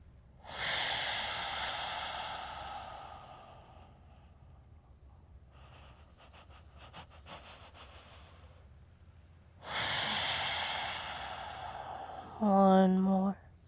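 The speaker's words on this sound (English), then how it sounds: "We take short little inhales like a rock skipping across water. We go. And then soft, slow exhales." Yoga breathwork: a few audible breaths close to the mic, with sharp nasal inhales and long soft exhales separated by quiet pauses, and a short voiced sound right at the end.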